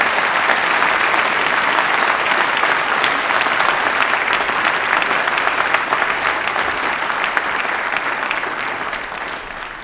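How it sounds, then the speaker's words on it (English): A large university graduation ceremony audience applauds the speakers and presenter, sustained dense clapping that fills the hall and stays strong throughout, easing only slightly toward the end, with no talking. "can I ask you to give a huge round of applause to our speakers and our presenter"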